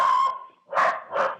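A dog named Angel barks close to the microphone during a virtual county council meeting: a drawn-out whining yelp, then two sharp, loud barks in quick succession.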